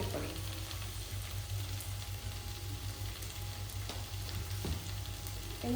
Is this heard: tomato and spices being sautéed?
yes